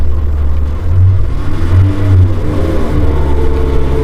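Koenigsegg Gemera engine on a dyno running 95 octane fuel, loud and close, a deep, strong drone that swells and wavers in pitch as the revs climb through a short pull.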